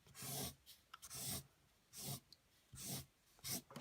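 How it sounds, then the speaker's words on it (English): Broad strokes of a fat-nib marker swiped across paper for sketch shading, five or six close, raspy swishes in a steady rhythm with short pauses between them, heard alone. "go to the fat nib on one of these and do a nice big swipe"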